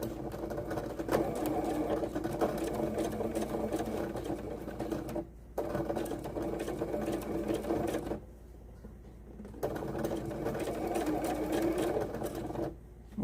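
A home sewing machine stitches fabric along a curved seam, whirring in long steady bursts broken by short pauses as the sewer stops to guide the cloth.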